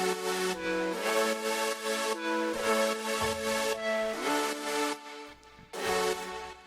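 Bright synth mid chords from a future bass track play in sustained, stacked stabs whose pitch bends and slides between changes, with short gaps between the chords and one brief pause near the end, and no voices.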